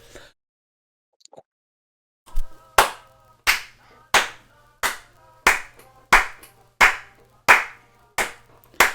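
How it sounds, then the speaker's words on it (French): Rhythmic group clapping at a roller-skating event, about ten sharp in-time claps that start after a quiet pause and repeat at a steady beat, fairly close and loud. "On applaudit à vos exploits."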